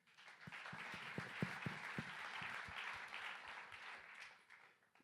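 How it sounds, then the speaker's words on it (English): Audience applause for competition volunteers at the MIT $100K Accelerate event, a dense steady clapping crowd with a few louder individual claps near the front, fading out over the last second. "So a big round of applause to them."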